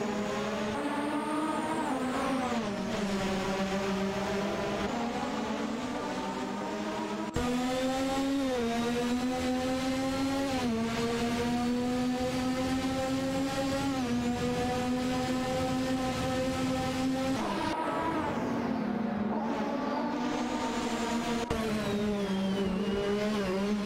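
Race car engines roar continuously in a video game race, several loud, high-revving motors rising and falling in pitch together as drivers jostle for position, with gear shifts and dips breaking the steady howl.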